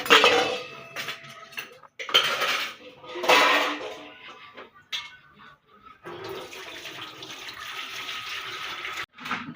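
Dishes and utensils are washed in a home kitchen, with bursts of clattering metal cutlery and pots alternating with running tap water and splashing, and a long stretch of steady water flow near the end.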